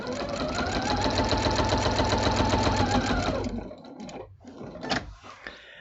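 A sewing machine stitches an outline on scrap fabric roses, running in a loud, steady, fast whir for about three seconds before stopping, followed by a few faint handling clicks.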